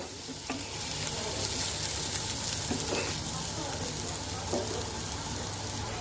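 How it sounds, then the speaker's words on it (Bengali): Chopped onions sizzle steadily in a pan, a close, even frying hiss with occasional stirring scrapes and soft talk in the background. "তো চলো পেঁয়াজটাকে ভাজা হোক"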